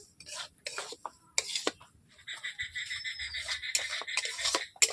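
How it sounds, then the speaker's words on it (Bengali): Semolina (suji) being stirred as it fries over low heat in a pan, giving clattering scrapes and taps of a utensil against metal, in irregular bursts close by with no talking. "এভাবে সুজিগুলোকে আমি নেড়ে নিচ্ছি"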